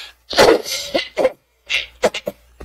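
A person imitates coughing: a few rough, throaty coughs in two short bursts, loud and close.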